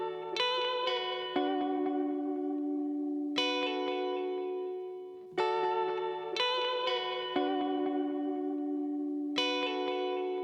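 An electric guitar track in Ableton plays repeated strummed chords washed in reverb, each attack followed by a long shimmering tail that overlaps the next, in a steady pattern with no voices.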